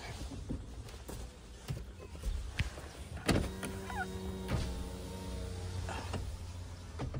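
Power windows of a hot car being lowered, a near motor whine rising and holding for a couple of seconds amid knocks and cabin rustle, with brief background noise but no clear talk.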